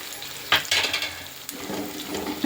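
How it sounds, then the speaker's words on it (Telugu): Ginger paste fries in a pan with a soft, constant sizzle. A spoon scrapes and clinks against the metal in a few distinct stirring strokes, close by, with no talking. "పేస్ట్ పచ్చివాసన పోయేదాకా వేయించుకున్నాం కదా"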